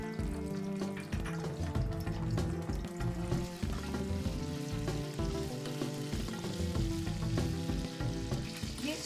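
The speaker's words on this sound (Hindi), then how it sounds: "मैंने ये अदरक और लहसुन का पेस्ट बना के इसमें छोंक में डाला है" Ginger garlic paste and cumin crackle and sizzle in about three spoons of hot oil as an Indian tempering, a steady close frying hiss with scattered pops and faint stirring clinks throughout.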